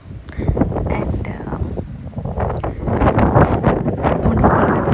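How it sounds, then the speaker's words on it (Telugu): Strong wind blows in New Zealand, rumbling hard against the microphone in steady gusts while a person talks over it. "గాలి చాలా ఉంది, దాదాపుగా రన్నింగ్ పీపుల్ కూడా పుష్ చేసే విధంగా గాలి వీస్తుంది."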